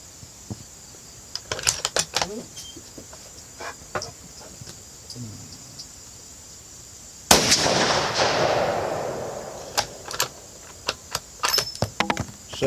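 A .450 Bushmaster rifle fires outdoors over a chronograph: one loud, sharp report with a lingering rumble of echo, surrounded by scattered clicks and light handling noises.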